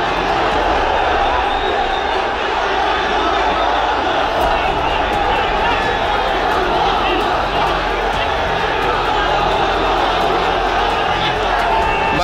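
Large Hizb ut-Tahrir street procession after Friday prayers near Baitul Mukarram mosque, a loud continuous roar of marching crowd voices and chanting, dense and unbroken throughout, with talk mixed into the din.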